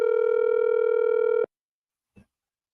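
A telephone tone sounds steadily and close for about a second and a half, then cuts off abruptly, followed by silence and a brief click.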